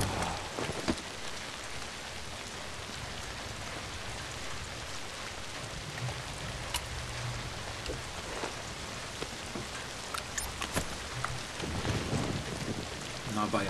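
Steady rain falls in the zombie survival video game Zombi, a dense even hiss of drops on surfaces with a few louder splashes, continuing throughout at a moderate level with no voices.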